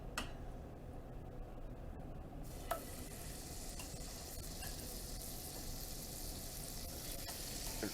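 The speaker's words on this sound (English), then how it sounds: "brown these for a minute or two on both sides" Pork chops browning in a hot pan of melted butter and a little oil, a soft, continuous sizzle and crackle with occasional small pops, fairly quiet and with no talk.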